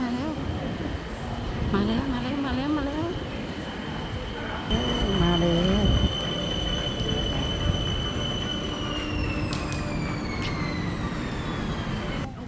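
BTS Skytrain train pulling into a Bangkok station, a steady rumbling drone with rising and falling motor whine and high wheel squeal as it slows, while people talk nearby.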